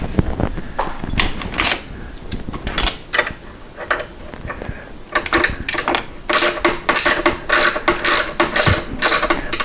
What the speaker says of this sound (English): I apparently bought this special flex hex socket from Mr. Snap-on years ago,